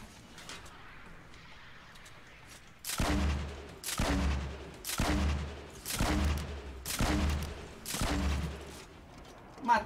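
Bursts of Fortnite gunfire come in regular volleys about once a second, sharp and loud, after a quieter opening with faint background noise.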